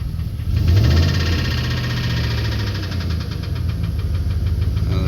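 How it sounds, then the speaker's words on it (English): A 2015 Chevy Express 1500 van engine with a suspected sticking lifter runs close up, a loud steady idle rumble with a fast, regular ticking knock throughout and no talking. "I suspect the lifter might be sticking."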